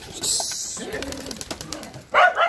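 Soft racing pigeon coos sound close by, with a few short murmuring calls and a sharper chirp near the end.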